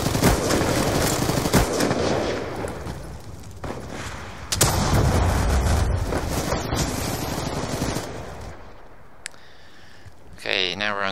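Dense automatic gunfire and booming explosions from Call of Duty Black Ops 2 gun game on Xbox 360, loud and continuous with heavy blasts around the middle and a rising whoosh near the end.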